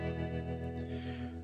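An electric guitar chord in a song lesson rings out with tremolo and a long reverb tail, sustaining steadily for the whole moment with no talking.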